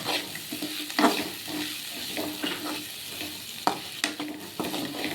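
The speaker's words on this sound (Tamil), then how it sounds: "காயை ஒரு பரட்டிட்டு" Chopped vegetables frying in a pan for semiya upma, stirred with repeated scraping strokes over a steady close sizzle, no talk.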